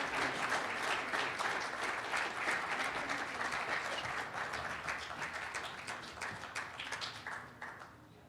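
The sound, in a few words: audience applause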